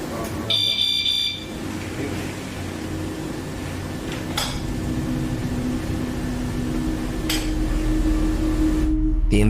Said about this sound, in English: a static camera records as 2 motion-activated REM pod devices are triggered by something moving around on the main floor